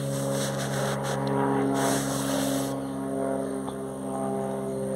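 An airplane passes overhead in a rural stakeout spot, its steady droning hum holding at moderate loudness with a brief swell partway through, no voices.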